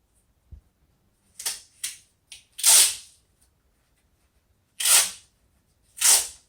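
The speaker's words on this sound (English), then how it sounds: "I'm going to take this masking tape and I'm going to cover both of the holes" Masking tape pulled off a roll and pressed over two holes in a firework mortar tube: a handful of short ripping and crinkling bursts, close and fairly loud, with gaps of silence between them.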